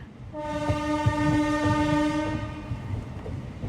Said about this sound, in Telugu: మన ట్రైన్ అయితే డోన్ జంక్షన్ నుంచి స్టార్ట్ అయిపోయింది